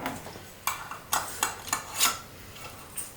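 A metal lid and screw ring are set onto a glass canning jar of pork, giving a string of light clinks and scrapes, about six distinct metallic taps close by with no talking.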